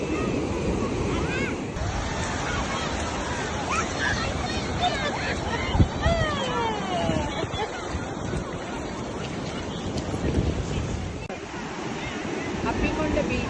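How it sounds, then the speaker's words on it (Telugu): Small sea waves wash in steadily at Gangavaram beach, with wind rumbling across the microphone and people talking nearby throughout. "అప్పికొండ బీచ్ చాలా చిన్న అలలు వస్తున్నాయి."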